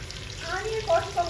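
Onions sizzling in hot oil with fennel seeds, cinnamon and cloves in a pan for chicken biryani, a steady close frying hiss with faint stirring and a voice talking over it.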